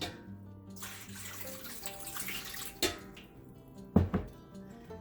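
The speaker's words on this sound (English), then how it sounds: "I'm gonna pour a little in here" Water being poured into a container of dye bath for eco-dyeing paper, with a trickling pour followed by a couple of sharp splashes or knocks against the vessel, close and fairly quiet.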